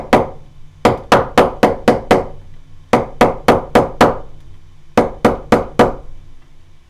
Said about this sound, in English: I can come back and just hammer on it a bit